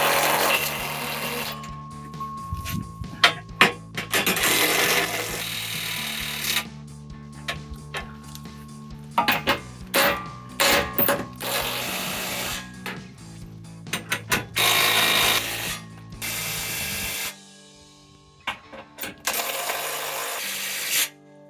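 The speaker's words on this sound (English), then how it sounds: "Take the 18mm socket, snug these babies down." Ratchet and 18mm socket snugging down exhaust midship bracket bolts on a Jeep Gladiator JT with an Injen high tuck single exhaust, heard as close bursts of rapid clicking separated by pauses and handling clatter.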